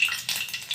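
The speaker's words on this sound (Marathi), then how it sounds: "2-3 पळी तेल घालून घेऊया, थोडीशी मोहरी घालूया" Mustard seeds crackle and sizzle in a few ladles of hot oil for a Maharashtrian egg masala, a short close burst of frying with faint popping.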